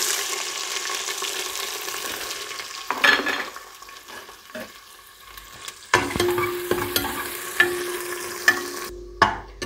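Onions fried and stirred in oil with black cardamom, cloves, whole black pepper and ajwain for Shikarpuri gosht, a steady sizzle with repeated scraping stir strokes and clinks, close and alone without talk.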